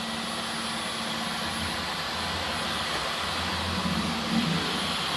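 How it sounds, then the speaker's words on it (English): A Dyson V15 Detect cordless stick vacuum gives a steady, loud motor whine with a low hum throughout, swelling slightly near the end as its auto-sensing revs it up, with no voices. "you hear the motor because it's got auto sensing. It automatically revs up"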